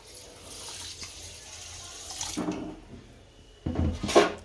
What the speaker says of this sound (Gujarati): ખાંડ બુડે એટલું પાણી નાખશો